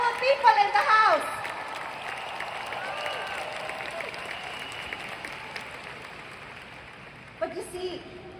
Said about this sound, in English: Can we all give ourselves a round of applause today to all the successful people in the house?